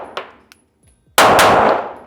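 Glock 17 Gen 5 pistol with a Timney trigger fired at a range: a couple of faint metallic clicks, then one loud, sharp report with a broad, noisy blast that rings and decays slowly.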